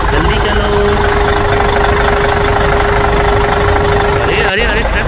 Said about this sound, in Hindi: चलो चलो स्टार्ट करो ट्रक